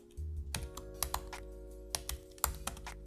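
Typing on a computer keyboard to enter an exiftool command on a Mac: a few scattered, close keystroke clicks over a steady low hum, with no talk.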